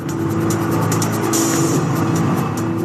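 Ayrton Senna's Williams Formula 1 car on a racing lap, its engine running hard at full throttle with a steady, loud, continuous roar and high harmonic whine, close and unbroken throughout.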